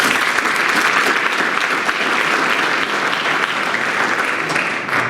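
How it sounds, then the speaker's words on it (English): Loud, sustained applause from an audience honoring Army board members at a Pro Football Hall of Fame award presentation, an even wash of clapping with no break throughout. "Let's give them a round of applause"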